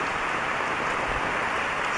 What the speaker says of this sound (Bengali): আজকে আমাদের গ্রামে প্রচুর বৃষ্টি হচ্ছে।